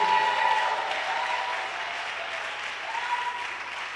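Church congregation clapping and cheering for the Holy Spirit at a French-English worship service, steady dense applause filling the room throughout with a faint voice and some cheering tones over it.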